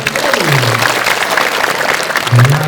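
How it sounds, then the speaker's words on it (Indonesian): Junior high school students clapping together in a group during a school event, a loud, continuous burst of many hands with a low voice briefly audible near the start and again at the end. "Tepuk tangan dong teman-teman."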